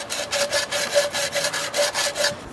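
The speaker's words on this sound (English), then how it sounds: "See how it's sanding it away." Rhythmic rasping strokes of sanding on PVC pipe for an aquaponics system, about ten quick back-and-forth scrapes, close and steady with no voices.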